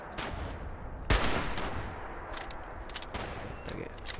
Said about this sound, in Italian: Sì, sto sparando.